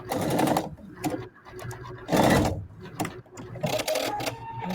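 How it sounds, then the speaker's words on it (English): A sewing machine backstitches to reinforce a seam, running in several loud bursts of rapid stitching separated by short pauses, close up. "Now here I do backstitch just to reinforce it."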